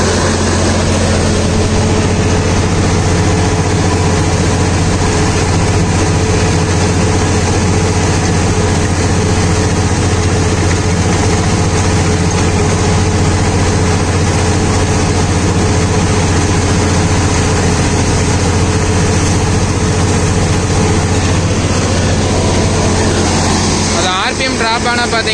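A heavy diesel Deutz-Fahr tractor engine runs steadily at a constant loud drone for PTO power, deep and rumbling throughout, with a slight change near the end.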